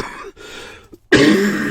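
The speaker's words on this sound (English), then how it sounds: "Oh, fed up with coughing." A single person coughs a couple of times in short hoarse bursts, pauses briefly, then clears the throat loudly and roughly up close.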